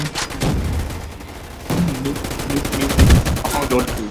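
Bursts of rapid automatic gunfire in the online shooter Gun Fight Arena, loud, close crackling volleys with short pauses, while a player talks excitedly over them.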